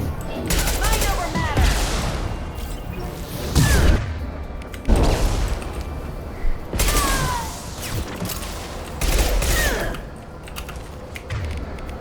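A gunship attack in the video game Mass Effect 2, repeated bursts of heavy gunfire and impacts arriving in waves over several seconds.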